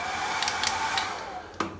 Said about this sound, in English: the hand dryer, which actually works.